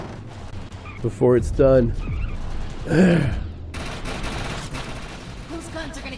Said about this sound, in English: Those guns are gonna keep firing until we shut down the generator.